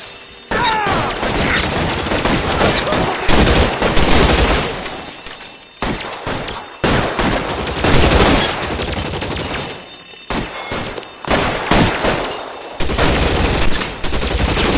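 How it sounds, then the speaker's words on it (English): Suppressing gunfire in the L.A. Noire video game: loud, dense bursts of rapid shots and impacts roll on in long volleys with short gaps, close and harsh, with little else audible. "I'll lay down some suppression fire."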